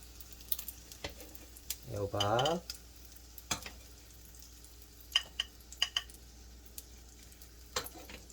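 Zucchini and enoki mushroom pancakes frying in a pan, a faint low sizzle scattered with light clicks and taps of utensils, and a brief voice.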